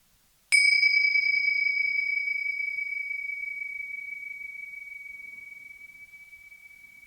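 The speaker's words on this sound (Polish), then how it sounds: "ja uderzam w ten dzwonek" A small bell struck once in a classroom gives a single clear, bright ding that rings on as a pure sustained tone, slowly fading over several seconds in near silence.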